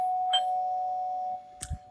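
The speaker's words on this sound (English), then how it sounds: "The doorbell rings and Rosa opens the front door." A two-tone doorbell chime rings once, the first note struck and sustaining evenly before cutting off, followed by a couple of soft low thumps near the end, with no voices.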